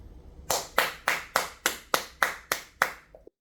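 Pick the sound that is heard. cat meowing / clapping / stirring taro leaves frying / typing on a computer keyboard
clapping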